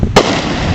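A single loud firework bang bursts from a neighborhood backyard display, a sharp broadband crack followed by a lingering noisy rumble.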